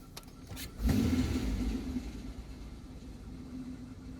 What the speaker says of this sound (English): So let's just hit the throttle.